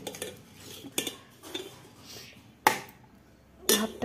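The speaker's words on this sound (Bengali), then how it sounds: "তো এখন এই যে থালা রেডি করে নিয়েছি, ভাত বেড়ে নিব।" Hot rice is served from a pot onto a metal plate, heard as a few sharp scraping and clinking knocks of a serving spoon against metal, spaced apart and close by with a quiet room between.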